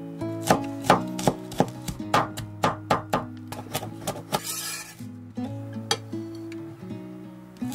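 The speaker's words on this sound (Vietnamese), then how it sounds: "Băm nhỏ một ít tỏi." Steady knife chopping on a cutting board, a run of sharp evenly spaced taps that pauses briefly, then resumes more softly, close up with no talk.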